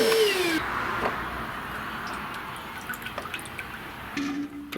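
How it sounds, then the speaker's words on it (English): An Ozito 18V Power X-Change cordless vacuum sucks up water, a steady motor whir and airy hiss with a brief falling tone at the start and light slurping, crackling bits toward the end. "how quickly that sucked up the water"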